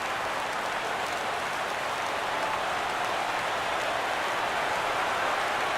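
A ballpark crowd at a Rangers–Tigers baseball game cheers and applauds on a 3-2 count, a steady, dense roar that holds evenly throughout.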